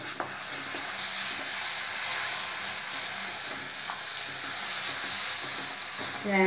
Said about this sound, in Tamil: இப்போது பாலில் கேசரி பவுடர் கலந்து வச்சுருக்கேன், அதை இதில் விடணும்.